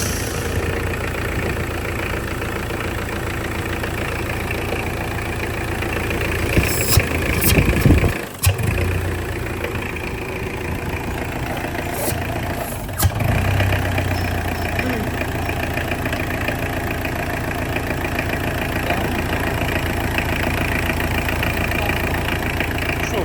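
A rebuilt Mitsubishi L200 diesel engine fires up and settles into a steady, loud, close idle with a low rumble and rhythmic knock, with two brief revving surges along the way; no speech is audible.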